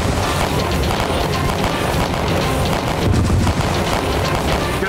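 Dense, continuous battlefield gunfire as soldiers come under fire in a Maharana Pratap war scene, a loud sustained barrage of shots and booms with no pauses across the whole stretch.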